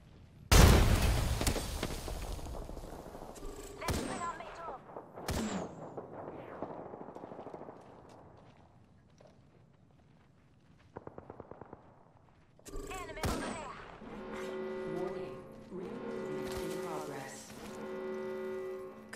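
Video game combat with loud gunfire: sharp shots and bursts crack out at the start and again later, separated by quieter stretches, with a voice speaking in between.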